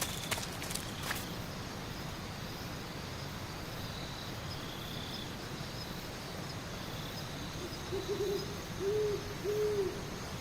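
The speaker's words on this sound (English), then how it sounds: "Why is it always the same owl sound every time a game uses an owl sound?" Repeated owl hoots from Metal Gear Solid 3, a soft rhythmic series of low calls late in the clip over a steady ambient jungle bed, with faint footsteps and a brief sharp rustle at the start.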